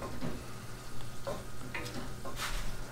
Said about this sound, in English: Give that a quick little mix.